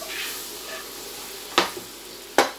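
Fish fries in butter in a hot pan with a soft continuous sizzle, broken by two sharp spatters or pan clanks, close and moderately loud.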